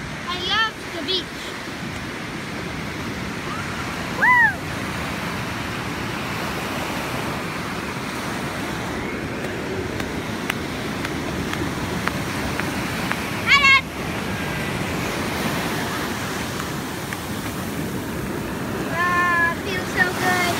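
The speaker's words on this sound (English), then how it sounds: "I love the beach." Steady surf washes over a beach in a continuous broad roar, with wind mixed in, while a few brief voice-like calls rise above it now and then.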